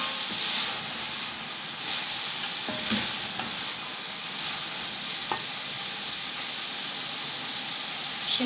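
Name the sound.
frying potatoes, capsicum and cabbage with mutton mince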